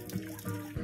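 Warm water running and splashing at an outdoor bathing spot in San Juan, a short close gush with uneven surges, with no talk.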